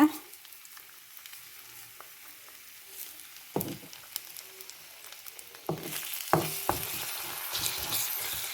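A salted snack being stirred in a frying pan, quiet sizzling broken by occasional metallic knocks, then louder, busier stirring and scraping with rising sizzle toward the end, no speech.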